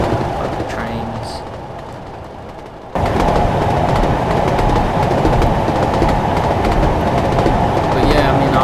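A British Rail Class 37 diesel locomotive passes on the Norwich to Great Yarmouth line in Train Simulator 2016. A quieter stretch of rail noise abruptly becomes a loud, close, sustained rumble and roar, with a voice talking over it.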